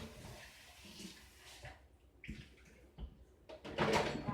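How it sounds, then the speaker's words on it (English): A plastic bucket that held lye water solution is rinsed out during hot process olive oil soap making, with splashing water, sloshing and knocking of the container, fairly quiet and intermittent, ending in a louder gush. "Immediately rinse out my lye water solution bucket."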